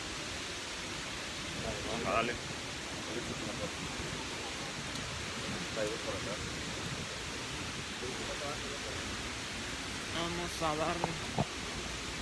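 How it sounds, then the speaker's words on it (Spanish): A 40-metre waterfall, Misol Ha in Chiapas, Mexico, roars as a steady, dense rush of falling water that fills the whole clip, with people speaking briefly over it. "Hemos llegado a la cascada Michoacán, que está a 40 metros de altura."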